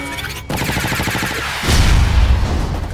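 Iron Man firing in Disney Infinity: Marvel Superheroes, a rapid loud burst of repulsor-style shots in quick succession, followed by a heavy rumbling blast as the barrage continues.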